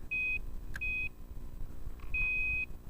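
An electronic fishing bite alarm on a canal bank gives three clear, steady high-pitched beeps, the last held longer, over a low outdoor background.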